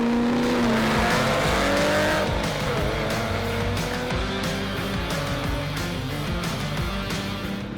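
A 928 car runs hard on a drag strip, its loud engine note climbing as it accelerates, with a brief tire squeal early on and a steady roar that fades slightly as it pulls away.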